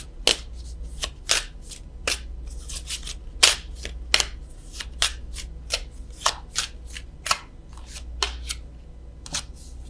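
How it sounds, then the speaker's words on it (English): A deck of French vintage stamp Love Oracle cards is shuffled by hand, giving a long run of crisp, close riffling snaps and flicks in uneven bursts with no talking over them. "I am going to draw a love card from the French vintage stamp Love Oracle."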